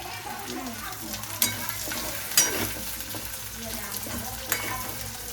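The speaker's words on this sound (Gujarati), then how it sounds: "હવે એમાં આપણે વટાણા નાખી દઈએ થોડા વટાણા અને ગાજરને સતરાવા દેવાના છે" Peas and carrots sautéing in a pan give a steady, close sizzle, broken by three sharp clinks of a utensil stirring against the pan, with no talking.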